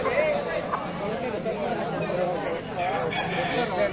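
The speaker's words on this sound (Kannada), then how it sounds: "ಗಿರಿರಾಜ ಹುಂಜಾನ ಅದು" A Giriraja rooster crows at a busy village hen and livestock market, its call rising over clucking fowl and a constant babble of nearby voices and chatter.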